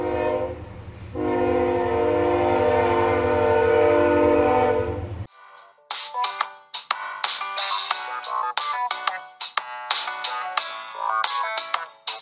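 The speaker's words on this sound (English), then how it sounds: "Train!" A train horn blows loud and sustained for several seconds, then cuts off and gives way to rapid clattering, clicking sounds.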